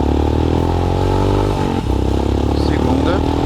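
A Royal Enfield Himalayan motorcycle engine pulls steadily up a hill in first gear, its rumble rising in pitch as it strains, loud and close throughout.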